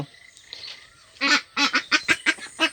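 Month-old Peking ducks call out in a loud, rapid series of honking quacks that crowd close together over a quiet background, sounding strained and breathless in hot weather.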